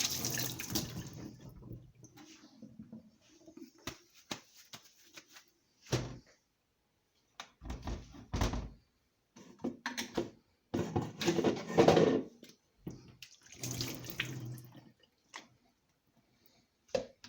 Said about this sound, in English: And I'm going to add enough water to cover my ingredients.